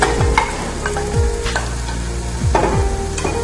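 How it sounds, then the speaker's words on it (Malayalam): Small cut chicken pieces sizzle in a pan for a Kasargod-style chicken curry while a spoon stirs them with several distinct scraping strokes, loud and close, no talking. "ചിക്കൻ ആഡ് ചെയ്ത ശേഷം ഒന്ന് നന്നായി ഇളക്കി കൊടുക്കുക"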